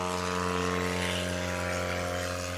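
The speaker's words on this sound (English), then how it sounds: "Brian Steck's like, no talking, only engine noise" Loud, steady propeller engine drone of a STOL aircraft taking off at a Lonestar STOL competition, with strong harmonic tones running unbroken and close throughout, no voices.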